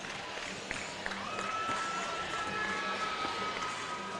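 Spectators clap and cheer in a gym at a Class A girls' state championship basketball game, a steady crowd wash with scattered claps and a whistle-like tone, moderately loud throughout.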